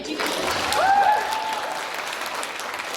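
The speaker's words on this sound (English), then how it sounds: "You take a clap for that, right?" Audience applause at a ClexaCon London fan convention panel, a steady wash of clapping from a crowd that swells briefly, with a faint whoop or whistle rising through it.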